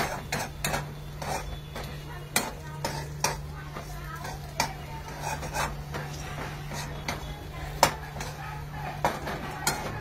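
A crushed peanut mixture is sautéed in a pan, with a faint sizzle under repeated sharp clinks and scrapes of a spoon against the pan, spaced irregularly over a steady low hum.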